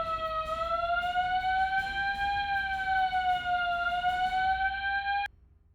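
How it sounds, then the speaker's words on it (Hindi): A house's central alarm system blares a loud, steady electronic siren tone that holds for about five seconds, then cuts off abruptly, leaving only faint room noise. "पूरे घर में सेंट्रल अलार्म सिस्टम लगा रखा है।"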